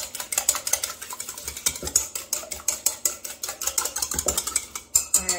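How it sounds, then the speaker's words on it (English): Two eggs whisked quickly in a bowl make a steady run of rapid, sharp clicks and taps as the utensil strikes the sides, close and fairly loud, with no talking. "So I have 2 eggs, and I'm just going to quickly whisk these."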